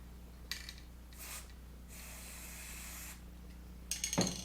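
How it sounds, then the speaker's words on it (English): Short hissing bursts from a spray can, a couple of quick puffs, then one longer spray of about a second, close up. "And then spray paint, hold for a few seconds, release."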